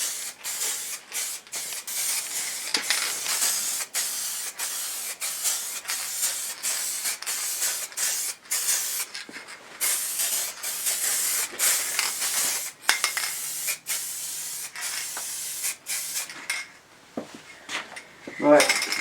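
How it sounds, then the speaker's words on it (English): Liquid wrap paint sprays from a spray gun onto a Triumph Tiger motorcycle in a garage, in short repeated hissing bursts with brief pauses, close and loud, with later bursts more ragged and sputtering. "that instantly gives a nicer, smoother atomization for that last little bit of paint."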